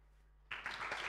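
Applause breaks out suddenly for guests being invited onto the stage at an athletics event, a crowd clapping steadily after a brief quiet moment.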